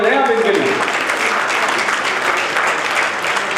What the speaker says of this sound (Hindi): जोरदार तालियां हो जाए आप इनके लिए।